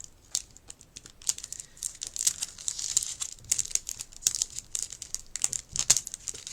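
Sealed plastic packaging being snipped down the side with scissors, a run of close crinkling and crackling bursts with sharp clicks, uneven in rhythm, nobody talking.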